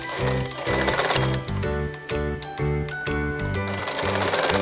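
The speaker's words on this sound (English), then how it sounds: "That's why I'm sewing it very slowly." Sewing machine stitching a cap sleeve slowly, a close rhythmic mechanical clatter in short runs with brief stops between bursts, fairly loud, no speech.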